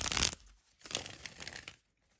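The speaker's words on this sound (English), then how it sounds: "I'm going to give them a good little shuffle really quick." Tarot cards being shuffled by hand, two quick close riffling bursts of papery flutter separated by a short pause, then quiet.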